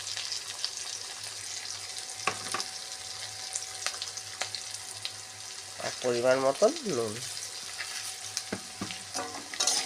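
Spices with a little turmeric and cumin powder fry in oil with potatoes for a ridge gourd and small fish curry, a soft continuous sizzle with occasional stirring scrapes, while someone briefly talks over it.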